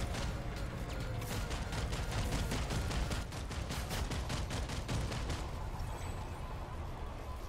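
Sustained rapid gunfire in a siege video game, a dense rattling stream of shots running steadily throughout, fairly distant and muffled, with no talking.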